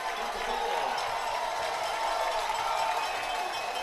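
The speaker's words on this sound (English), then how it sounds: "if you couldn't hear the crowd at Dietz Field before, I'm sure you can now" A football crowd at Dietz Field roars steadily from the stands, a dense sustained wash of cheering with no breaks, fairly loud and distant-sounding.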